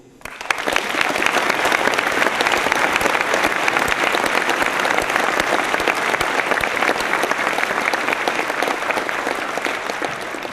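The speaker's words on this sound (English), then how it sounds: "please join me in a round of applause for non-commissioned officer corps" Loud, sustained applause from a large crowd at a military change of responsibility and retirement ceremony, dense and even from start to finish without a break.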